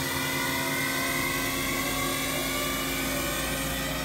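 A Mazak vertical machining center spindle runs at 2000 RPM, a steady, dense whirring hum with a high whine held evenly throughout, close by and with no talk.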